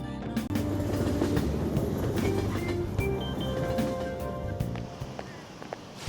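A train ride in the video game Persona 5 Royal: a steady low rumble of carriages with rhythmic clacks and a few faint high squeaks and clicks, loud and continuous with no voices.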